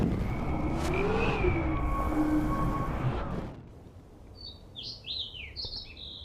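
Bird chirping in the video game Life is Strange: a few short, high, quick chirps near the end, fairly faint, after a louder stretch of mixed game sound.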